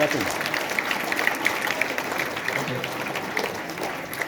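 Applause during a school result announcement, steady clapping from an audience throughout, moderately loud, with voices faintly mixed in.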